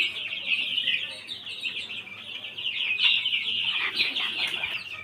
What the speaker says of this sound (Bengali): এই যে আমার মুরগির বাচ্চা